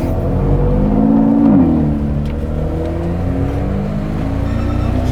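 A Honda Integra Type R DC5 driving off on a Japanese road, its engine revving up steadily with a rising whirring tone, close and fairly loud, settling into a steady drone as it pulls away.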